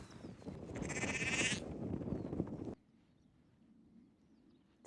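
Lambs bleating in the rolling hills of Derbyshire, one loud close wavering bleat for about a second and a half amid outdoor field noise that cuts to near quiet.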